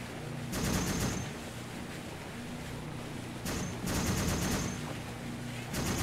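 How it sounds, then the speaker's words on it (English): Automatic weapon fire in ARMA 3, a Vietnam campaign co-op session, comes in several rapid bursts with quieter gaps between them, loud and fairly close. "Stop shooting me"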